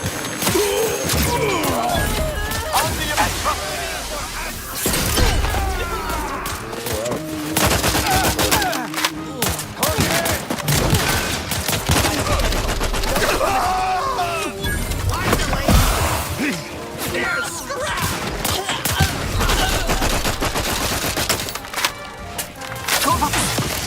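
Stun weapon fire from the video game Outer Worlds 2 cracks out in dense, repeated bursts amid crashes and clatter, loud and nearly continuous, with game voices speaking over the fighting.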